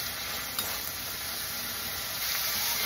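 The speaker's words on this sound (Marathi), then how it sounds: "थोडंसं परतून घेतले आपण तेलावर।" Paneer sautés in hot oil in a kadai for veg kurma, producing a loud, dense, unbroken sizzle close up with only faint stirring movement beneath it.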